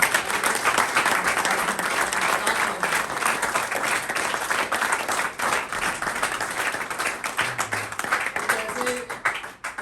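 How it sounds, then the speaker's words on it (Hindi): Loud, sustained applause from a large audience at a recovery birthday celebration for someone 730 days clean and sober, a dense wash of clapping filling the whole stretch with a few voices faintly underneath. "पहले तो एक बार जोरदार तालियां"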